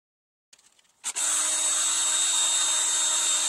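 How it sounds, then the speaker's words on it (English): A drill spins a paracord lacing needle against sandpaper to sand it down, with a few faint scrapes before the motor kicks on into a loud, steady whir that holds to the end. "put this in the drill and sand it down like that"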